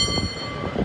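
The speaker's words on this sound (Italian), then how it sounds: "i tram, che si chiamano cable cars, sono molto particolari perché vanno super in salita e super in discesa" A San Francisco cable car runs along its street cable, giving a steady mechanical rumble with a couple of soft rhythmic clunks, heard close and moderately loud.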